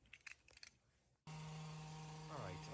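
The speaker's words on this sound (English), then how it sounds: "apologize for the noise from the neighbors mowing the lawn" A neighbor's lawn mower runs steadily nearby, a loud continuous engine drone that starts abruptly and holds constant, with a faint shifting whine near the end.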